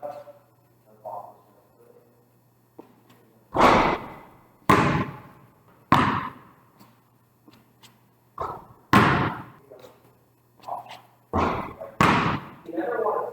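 A basketball dribbled on an indoor court during an elementary skills session, a series of loud, close, irregular bounces with a person talking quietly in between.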